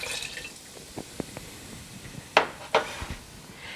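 Dr Pepper is poured into a pot of beef chili with quiet splashing and dripping, plus a couple of sharper clinks against the pot.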